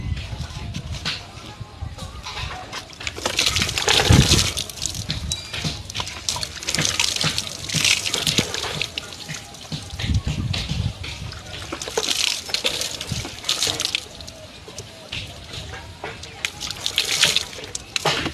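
Water is scooped up and poured over the body to wet it, giving continuous close splashing and trickling with repeated pours.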